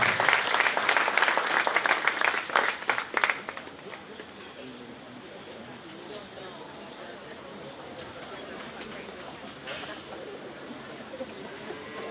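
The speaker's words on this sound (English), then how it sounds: "Let's give those kids a big round of applause that clean up our market gilt division." Audience applause at a county fair 4-H swine show, a loud burst of clapping for a few seconds that fades into a low murmur of crowd chatter in the arena.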